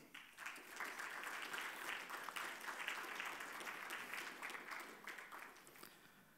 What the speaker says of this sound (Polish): Ogromne brawa.